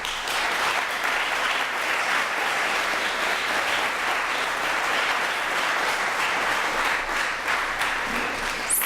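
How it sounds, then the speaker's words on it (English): An audience at an evening business networking event applauds a sponsor with a continuous, full round of clapping that holds at an even level throughout. "I'd like for you to give him a round of applause"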